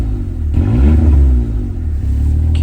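A Suzuki Alto Works engine is revved with headlights, fog lights and radio switched on: a short, close engine rev that swells and falls back to a steady low idle, with no belt squeal.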